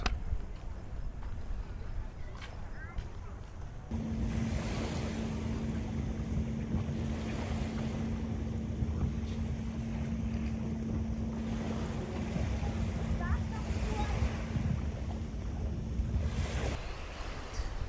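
Beach in Ibiza with surf washing ashore under steady wind buffeting the microphone, a continuous broad roar with a faint steady hum joining partway through.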